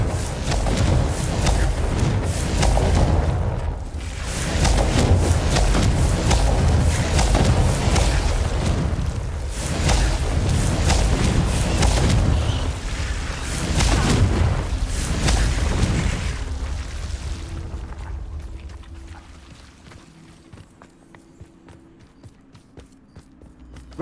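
Confringo fire spells bursting in Hogwarts Legacy, a steady run of loud, rumbling blasts and booms with game action and footsteps, fading to quiet near the end.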